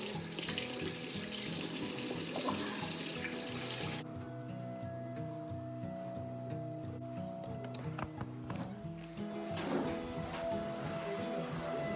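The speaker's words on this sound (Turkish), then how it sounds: "Şimdi ellerimi yıkamaya gidiyorum." Water runs steadily from a tap while hands are washed, a loud continuous splash and rush that changes slightly partway through, with no voices.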